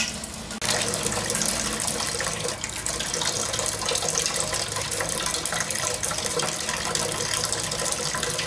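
Wort draining slowly from a mash tun during the sparge of an all-grain home brew, a steady close rush of running liquid that begins abruptly and continues evenly throughout, with no one speaking.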